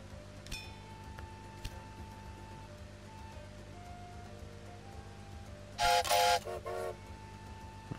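Trains running in the video game Railway Empire, a quiet rumbling rail backdrop with faint tones, then a loud train whistle sounding in a few short blasts near the end.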